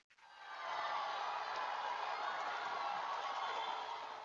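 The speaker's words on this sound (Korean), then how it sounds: "큰 박수 부탁드리겠습니다" Large crowd applauding at a nationwide doctors' rally protesting medical legislation, a dense, steady roar of clapping that swells within the first second and holds loud to the end, with no talk over it.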